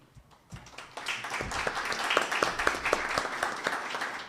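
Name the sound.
audience applause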